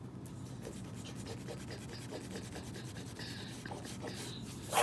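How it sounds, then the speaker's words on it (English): Pencil eraser rubbing back and forth on paper, a series of quick, close, soft scratchy strokes in a steady rhythm, fairly quiet with no speech. "So let's do some erasing with this pencil I found on the floor."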